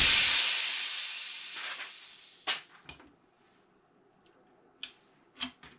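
A loud rush of air hisses from the line of an airgun booster pump as it is bled. The hiss fades away over a couple of seconds, followed by a few quiet clicks and knocks of the fittings.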